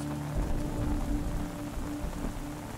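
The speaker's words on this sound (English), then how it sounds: "As your concerns are washed away with the soothing sound of the rain" Steady, soothing rain falls on a surface as a dense, even patter with low rumbling underneath, continuous and fairly close throughout, with no voices.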